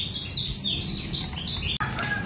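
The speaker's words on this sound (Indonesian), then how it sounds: "Jadi ini menurut saya jenis kenari terkecil untuk saat ini yang saya punyai ya." A tiny imported canary chirps in quick, high repeated tweets and short trills, close and fairly soft, with a brief click partway through and a steady background hum.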